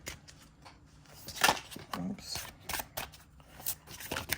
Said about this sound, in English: let me shuffle it really quick